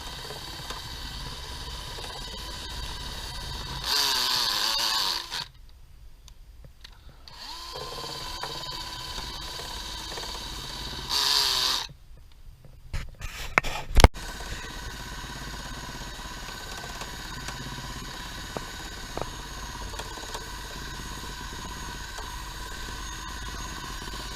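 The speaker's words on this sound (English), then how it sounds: "Very lowest setting you've got on your drill, and not too much pressure" A steady mechanical whir of a power drill on its lowest setting, running a Coromal cleaning wheel to strip old window sealant, runs throughout, with a couple of louder bursts and a sharp knock partway through, no talking.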